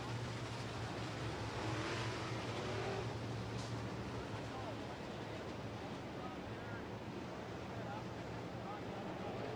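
Modified race cars circle a track during a feature race, their engines a steady distant drone with a low hum, mixed with broadband wind noise across the microphone and no distinct passes.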